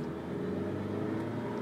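A 1998 Ford Escort SE wagon accelerating, a steady close engine hum and road noise at moderate level over a short stretch, with no talking.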